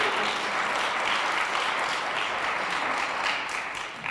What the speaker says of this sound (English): That's absolutely worth clapping for.